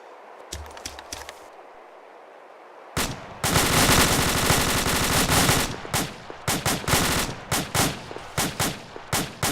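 Rifle and machine gun fire rips out during an infantry exercise, a few distant pops followed by a long loud automatic burst and then a string of sharp separate shots, near and powerful.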